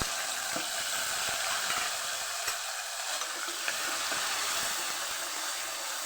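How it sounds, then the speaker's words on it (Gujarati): Onion, tomato and green chili dropped into hot tempering of cumin, asafoetida, red chili powder and bay leaf for rasam rice, giving a steady close sizzle with faint stirring clicks throughout. "ડુંગળી ટમેટાને લીલા મરચાંને સાથે ઉમેરી દેશો"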